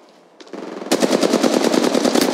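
Rapid automatic gunfire from the mobile shooter game Apex Legends Mobile, a loud, fast, evenly spaced burst of shots that kicks in after a short quieter lead-in and runs without pause to the end.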